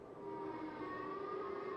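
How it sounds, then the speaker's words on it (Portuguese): Tornado warning sirens wail during an F5 tornado, a sustained steady tone that fills the short span at moderate distance with no talk. "Enquanto as sirenes de tornado tocavam"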